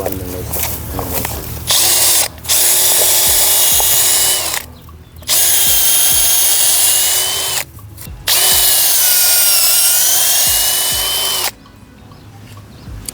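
A power drill bores into a tree trunk in a planted grove to test whether the heartwood has formed, whining loudly in three long bursts separated by short pauses, with faint talk beneath.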